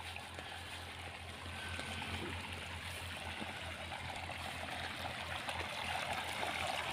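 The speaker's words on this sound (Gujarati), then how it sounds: "તો અહીંયાથી પેલા પારિયામાં પાણી જાય છે" Irrigation water flows steadily through a farm field channel with a continuous rushing, trickling sound, fairly quiet and unbroken throughout, with no voices.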